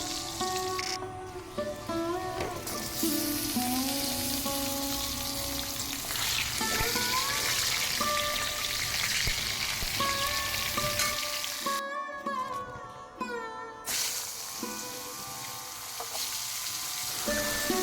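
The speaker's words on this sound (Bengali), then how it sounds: "কেটে ধুয়ে রাখা সবজিগুলোকে একে একে ভেজে তুলে নেব" Potatoes, pointed gourd, beans and carrots fry in hot oil for khichuri, giving a steady close sizzle and crackle with occasional stirring scrapes, continuous and fairly loud with a brief dip in the middle.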